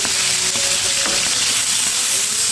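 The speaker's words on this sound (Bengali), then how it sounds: "মাছটা একটু সাবধানে ভাজার সময় ভাজবে কারণ এটা কিন্তু অনেকটা তেল খেতে" Pangas fish frying in oil, a steady dense sizzle and hiss throughout with faint scraping, close and continuous, no voices.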